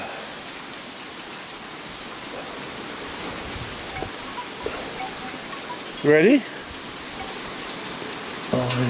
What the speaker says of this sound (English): the rain's coming in on the swing too